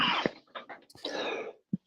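Someone close to a microphone coughs and clears their throat in a few rough, breathy bursts, ending with one short cough after a brief pause.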